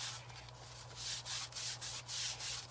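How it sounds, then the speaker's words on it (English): A baby wipe is rubbed over the surface of a handmade 'You Are Braver' craft piece in soft, close, rhythmic strokes. The wiping swells and fades, quiet, with no talking. "I'm just going to rub over this a little bit"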